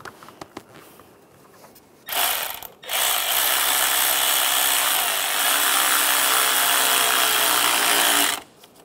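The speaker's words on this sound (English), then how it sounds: "Tighten down the worm clamps." Worm-drive hose clamps being tightened on a 1996-2002 Toyota 4Runner engine, heard as a loud, continuous whirring drive of a powered tool running for about six seconds after brief handling clicks, close up with no talk.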